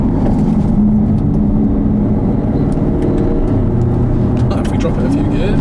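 A Jaguar XKR-S engine drones loud and steady inside the car while it drives country lanes, with someone talking over the constant road and engine noise.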